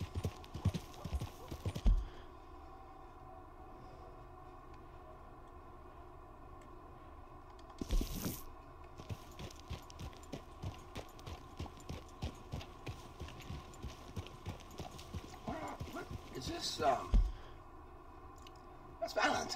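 A horse in Red Dead Redemption 2 walks along, hooves clopping steadily and close, with a few sharper louder bursts scattered through the long stretch of footfalls.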